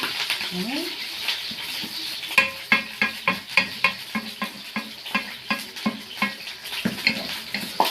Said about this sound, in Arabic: عماله اقلب فيها اهو عشان ما تتحرقش الثوم يطلع